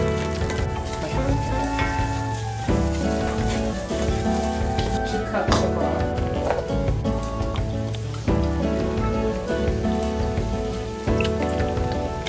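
Flour cooks into a roux in a pan for a creamy cheddar broccoli soup, a steady close sizzle and hiss with light stirring, while music plays underneath.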